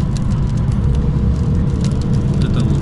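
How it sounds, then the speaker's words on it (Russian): Small stones thrown up from the road patter and tick against a car's windshield while driving, scattered sharp clicks over a loud steady road rumble inside the cabin. "Вот этот вот звук, это сыпятся камни в стекло."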